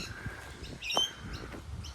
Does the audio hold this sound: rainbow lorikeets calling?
yes